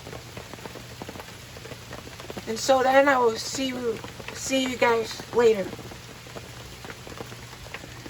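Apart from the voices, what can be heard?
rain falling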